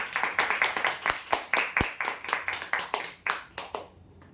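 Sharp claps from a small group applauding prize-draw winners at a customer lucky draw, an uneven run of close claps that thins out and stops.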